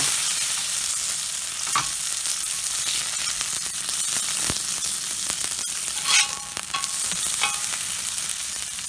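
Burger frying in oil in a cast iron pan, a continuous crackling sizzle with scattered pops and occasional metallic clinks from a spatula, close and moderately loud.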